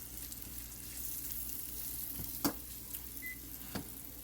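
Peppers and onions fry in a pan with a faint, steady sizzle and a few soft clinks of utensils.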